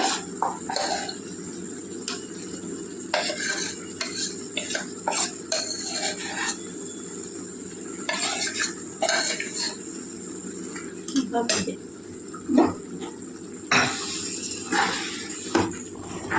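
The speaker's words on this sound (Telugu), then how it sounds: "బాగా కూర అంతా బాగా కలిసేలా కలుపుకోవాలండి గోంగూరలోకి" A spoon scrapes and clinks in a pan while gongura prawn curry is stirred, with irregular metallic taps and scrapes over a steady background hiss, heard alone without talk.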